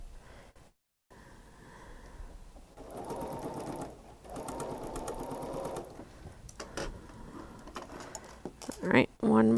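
Sewing machine stitching quilt pieces together in bursts of fast rhythmic whirring with quiet gaps between them. A person talks throughout.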